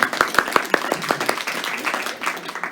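An indoor audience applauds at a synagogue gathering, starting with a run of sharp, rhythmic claps that soon spread into a busier, mixed round of clapping, with voices murmuring underneath.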